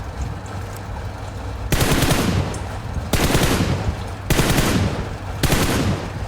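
Rapid automatic bursts of M4 rifle fire at long range in PUBG Mobile, four loud sustained volleys over a steady background hum.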